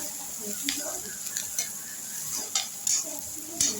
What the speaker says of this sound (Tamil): இப்போ கருவேப்பிலை சேர்த்துக்கலாம் சேர்த்து எல்லாத்தையும் நல்லா வதக்கிக்கலாம்